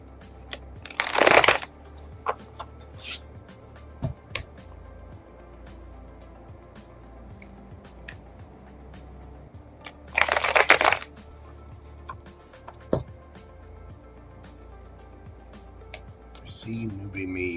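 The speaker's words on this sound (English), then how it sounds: "Card shuffled up correctly here." A deck of tarot cards is shuffled in two brief riffling bursts several seconds apart, with light taps and handling sounds between them.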